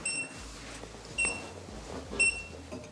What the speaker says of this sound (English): You can hear it's actually beeping.